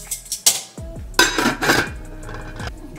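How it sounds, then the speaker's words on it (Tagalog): Spaghetti noodles stirred in a metal pot, utensil scraping and clinking against the pot in a few quick, close, loud strokes with short pauses between. "Halu-haluin nyo lang para hindi magdikit-dikit talaga."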